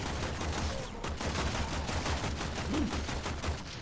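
Rapid gunfire in a Warframe boss fight, a steady stream of repeated shots at even pace, moderately loud throughout with no talk over it.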